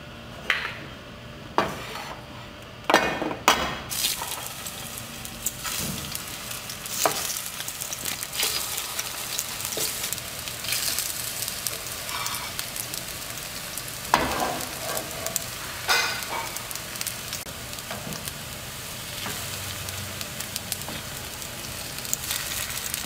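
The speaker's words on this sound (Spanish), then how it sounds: "Lo vamos a freír" Peeled plantain frying in hot oil for Veracruz-style mole, a steady dense sizzle with scattered clinks and scrapes of a utensil against the pan, no talking.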